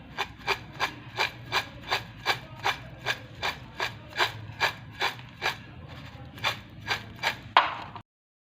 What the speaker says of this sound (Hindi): ये बहुत क्रिस्पी बने हैं। इसकी आवाज़ से पता चल रहा है